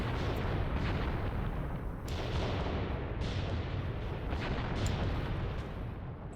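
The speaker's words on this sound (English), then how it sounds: "Shall transfer our mortar fire back over to here" Mortar fire in the war video game Graviteam Tactics: a dense, continuous rumble of distant booms and blasts, with several sharper bursts standing out, and no talk.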